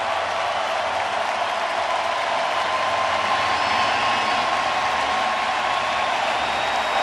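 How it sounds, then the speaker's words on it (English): A sellout World Series crowd in a Houston ballpark applauds pitcher Framber Valdez, a dense, steady roar of clapping and cheering that holds evenly for the whole stretch. "Framber Valdez going to get a great show of appreciation from this sellout crowd"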